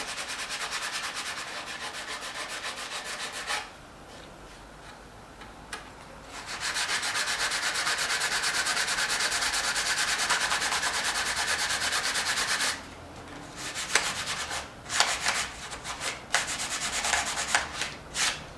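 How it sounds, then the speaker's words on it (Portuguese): Sandpaper rubs against a glued spot on a sculpture in close, rhythmic back-and-forth strokes, with a short pause, a steady stretch, then choppier bursts toward the end. "Eu vou ter que lixar aqui porque eu passei cola."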